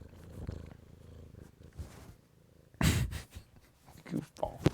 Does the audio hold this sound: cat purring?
yes